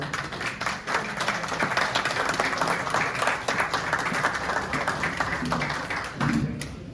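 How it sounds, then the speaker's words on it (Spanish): A lecture audience gives a steady round of clapping to welcome historian and architect Melvin Hoyos, close and continuous throughout, with a faint voice near the end. "Vamos a recibirlo con un fuerte aplauso, por favor."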